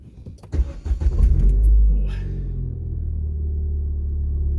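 A 2014 Ford Fiesta ST fitted with a VUDU engine and gearbox rear mount cranks to life with a short rumble, then settles into a steady, close, low idle hum at fast idle.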